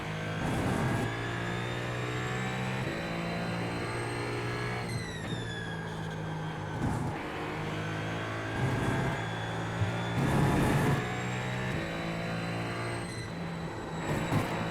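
Hybrid race car in the iRacing sim accelerating on throttle, a steady loud engine drone with harmonic tones climbing through gear changes, no talk over it.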